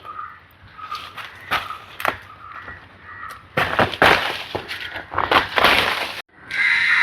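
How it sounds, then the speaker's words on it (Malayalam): A rambutan tree branch is cut during pruning, heard as a series of sharp cracks, snaps and rustling leaf scrapes that come in irregular bursts and grow louder and denser toward the end, close by. "അതും കൂടി ഇങ്ങനെ കുറച്ച് ദൂരത്തേക്ക് വെച്ച് തന്നെ കട്ട് ചെയ്തെടുക്കുവാണ്"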